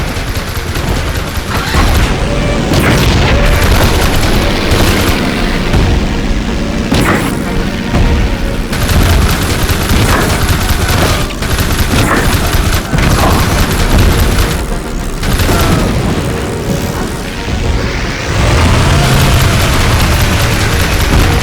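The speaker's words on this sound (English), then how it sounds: "Rocket attack. Roger, attacking ship." A rocket attack on a ship in the Pacific naval air combat of Heroes of the Pacific: continuous heavy booms, explosions and cannon fire, loud and dense throughout with barely a lull.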